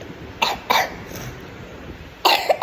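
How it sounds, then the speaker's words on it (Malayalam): A person recovering from a fever coughs in three sharp, close bursts: two a moment apart, then a stronger one after a pause, each standing out above quiet room noise. "ചുമയാണ് കേട്ടോ"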